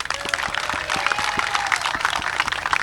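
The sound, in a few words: audience applause for elders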